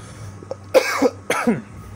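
A person coughs, a brief soft throat sound followed by two harsher close coughs in quick succession, alone in a quiet room.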